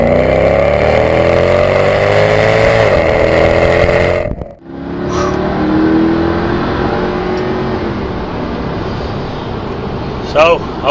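A Mercedes CLK63 AMG engine revs loud and close, climbing steadily through rising pitch, then breaks briefly at an upshift around the midpoint before pulling hard again with a deep, continuous roar.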